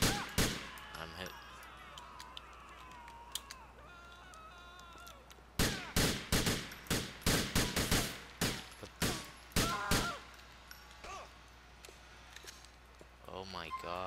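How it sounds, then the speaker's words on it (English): Gunfire during a police shootout in GTA IV, a burst of loud, sharp shots in quick uneven succession, some rapid and clustered, with someone talking before and between the bursts. "Alright, he's firing. I'm gonna have some shots fired here."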